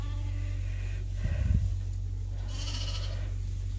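Lambs in a creep pen on a sheep farm, with a bleat rising over a steady low farm hum midway and fainter animal sounds later, no talk.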